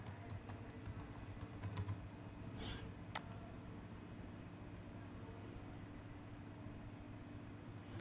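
Light, steady clicking of a computer keyboard as a name is typed during work in Revit, soft and close over a constant background hiss, with a single sharper click near the end.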